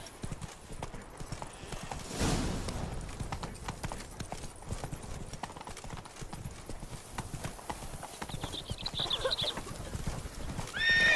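Roach, Geralt's horse in The Witcher 3: Blood and Wine, trotting with steady rhythmic hoof clip-clops, close and continuous, along with snorts and a short whinny, over a faint game ambience.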